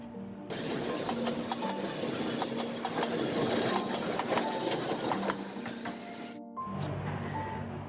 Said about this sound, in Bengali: এই এই যে রেল যার মাধ্যমে তোমরা বাগবাজারও যেতে পারো